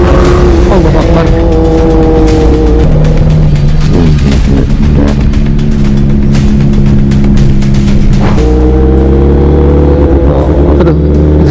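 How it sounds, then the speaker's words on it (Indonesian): A Kawasaki ZX25R motorcycle engine revs hard and loud, its pitch climbing and falling in repeated sweeps with a sharp blip near the end, close by and dominating throughout. "Apa tuh? ZX6 ya? ZX25 ding. Suaranya kenceng banget."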